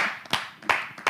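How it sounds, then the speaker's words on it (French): A church congregation claps during a worship service, three sharp rhythmic claps in quick succession, close and fairly quiet with no talk. "Applaudissez"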